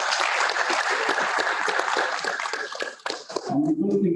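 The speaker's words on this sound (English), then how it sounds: "Kindly, another round of applause for Moses." Audience applause greets speaker Moses at a regional consultative forum, dense clapping from a room of listeners that stays loud before breaking off, after which a voice begins speaking.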